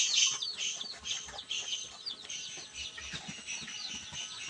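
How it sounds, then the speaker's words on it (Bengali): Tiger chickens in a separate coop inside a farm house cluck and chirp continuously, with overlapping bird calls near and moderately loud throughout. "এগুলো হলো টাইগার মুরগি।"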